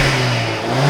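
An MG6 with a 1.8 litre turbo engine and stock exhaust revs briefly, a loud, steady, thin droning note that holds without any voices.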